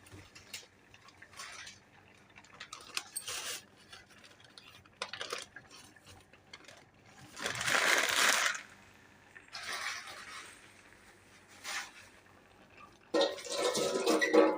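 Jaggery tipped straight from a paper into a cooking pot makes scattered soft clinks, rustles and a few short crunchy bursts, quiet and close, with no talk.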